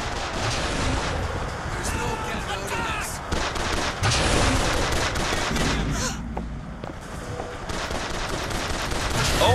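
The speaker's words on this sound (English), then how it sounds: "Shotgun again, I don't really like this gun." Shotgun blasts and other gunfire in the Bioshock Infinite video game, dense and loud throughout with sharp bursts and heavy low rumble over a busy game soundtrack.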